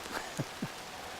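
Steady rain falls on an apple orchard, a soft continuous hiss with a couple of brief, closer drips or patters.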